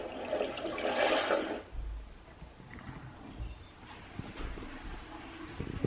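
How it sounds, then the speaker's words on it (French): A toilet flushes with a loud rushing whoosh of water that drains away after a couple of seconds, leaving quieter room noise with a few soft knocks. "mon frère qui vient de tirer la chasse d'eau"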